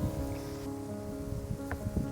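Rain setting in over a winter carp fishing lake: a faint, steady patter of drops on surfaces and leaves, with a few slightly louder nearby taps and no talking.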